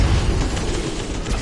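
A dense, roaring blast in the video game Space Hulk: Deathwing fills the short moment, a heavy rumbling explosion with crackling debris and no voices.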